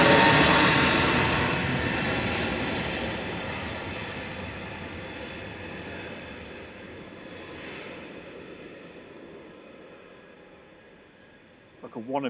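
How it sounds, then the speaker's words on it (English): A Swiss Airbus A321neo, registration HB-JPD, departs Manchester Airport for Zurich, its broad engine roar loud at first and fading steadily into the distance, with a short burst of voices right at the end. "Swiss heading back to Zurich with an A321neo today"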